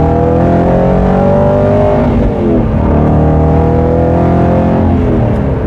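An Aston Martin Vantage GT8 engine on an open road roars loudly and steadily from inside the car, its harmonic note dipping briefly before climbing again, with no talking.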